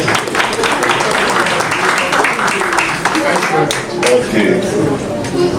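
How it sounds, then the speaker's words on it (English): Audience applause at an Esan cultural day gathering held by an association in Munich, Germany, with steady sustained clapping from a crowd filling the room for several seconds. "Please give him a round of applause."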